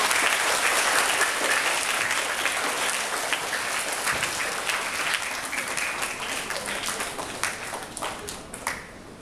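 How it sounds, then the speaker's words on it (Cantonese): An audience at an underwater robotics group's meeting breaks into loud, sustained applause that gradually thins toward the end, with a few scattered claps trailing off and faint voices beneath. "我哋就俾掌聲佢哋開始分享啦"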